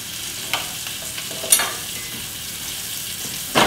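Fillet steak frying in a pan gives a steady high sizzle with a few sharp pops and spits, one louder burst midway, staying close and continuous with no voices.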